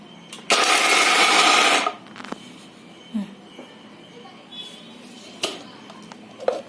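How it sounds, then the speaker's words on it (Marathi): A kitchen mixer grinder whirs loudly for about one and a half seconds as it grinds roasted peanuts for chutney, then stops, followed by light knocks and handling noises. "आता हे दळून घेते मिक्सरमध्ये"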